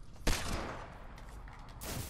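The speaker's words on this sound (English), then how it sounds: "I shot my SMG instead of my flipping." SMG fire in a competitive duo squad shooter game: a loud sharp burst of gunfire near the start, followed by a second burst toward the end over steady game background noise.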